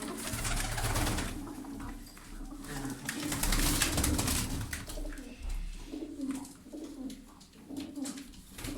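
A pet pigeon or dove coos steadily while held in someone's hands, with low repeated cooing close by and a constant background hum.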